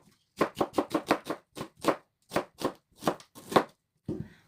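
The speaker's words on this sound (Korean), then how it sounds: "양파 반 개를 썰어주겠습니다." A knife slicing half an onion thinly on a cutting board in a home kitchen: about a dozen crisp, separate chops in a brisk uneven rhythm, close and clear with nothing else behind them.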